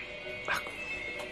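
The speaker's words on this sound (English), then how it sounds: "So we'll have our wee doggy down with us at the caravan." A pet dog gives a brief, faint whimper up close, a single short whine over quiet background hum.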